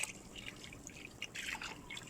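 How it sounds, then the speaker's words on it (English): Water being added to dirt to make clay, heard as faint, soft dripping and trickling with light splashes, fairly quiet and close, no talking. "the first step is making sure we add enough water here"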